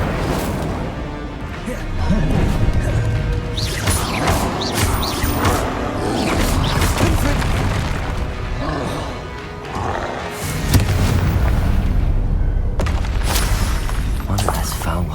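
A fire spell cast in combat in Hogwarts Legacy gives a loud whooshing burst over continuous battle noise, with booms, crashes and a voice calling out spell names.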